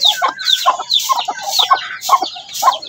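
Mother hen and her newly hatched chicks clucking and peeping close by in a rapid, repeated pattern.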